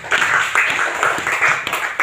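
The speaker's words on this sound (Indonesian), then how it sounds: "silakan tepuk tangan buat temanmu" Classmates clap for a student in a classroom, a steady burst of applause lasting about two seconds at moderate loudness.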